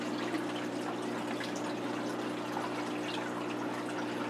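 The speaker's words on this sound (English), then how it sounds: "we barely got an inch of water drained out of the tank so far" Water draining from a 125-gallon planted aquarium, a faint, steady trickle and gurgle against a low constant hum, with no voices.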